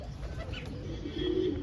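Pigeons coo softly, with one low throaty coo near the end over a murmuring background.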